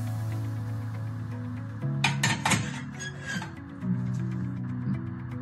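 Cutlery and dishes clink and rattle as they are unloaded from a Beko dishwasher, with a few sharp metallic chinks of spoons and plates over a low steady background hum.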